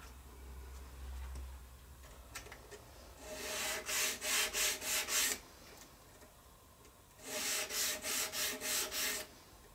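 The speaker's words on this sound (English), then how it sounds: "So give the whole thing a good sanding, paying attention to take off these sharp corners here and here, here." Sandpaper rubbing over the routed edges of a wooden gnocchi board, rounding off sharp corners. Two bursts of rhythmic strokes, about five or six each, come close and fairly loud, with quieter handling noises before them.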